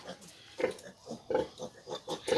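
Young piglets grunt in short, close bursts with brief pauses between them, sounding from a farm pen where a litter of eleven about a week old is kept.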